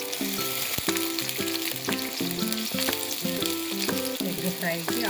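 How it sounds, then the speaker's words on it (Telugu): Onions frying in hot oil for an egg fry curry give a continuous, even sizzle that runs throughout beneath steady background music, with no talk. "ఒక నిమిషం మొత్తము ఆనియన్స్ ఇలా వేసుకుందామండి"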